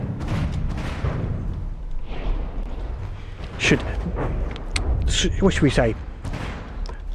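Missiles strike warships in the naval combat game From The Depths, producing a series of booms and thuds scattered through the scene, with someone talking over them.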